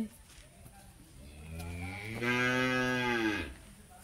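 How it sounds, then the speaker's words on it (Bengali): A young calf moos near its mother at a temple ashram in Bankura, one drawn-out, rising and swelling call heard at moderate distance, with quiet outdoor background. "আর এই একটা ছোট্ট গরুর বাছুর"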